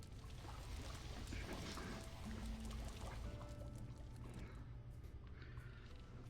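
Boiling water being poured aboard a boat, a soft continuous gurgling stream at low level, fading toward the end.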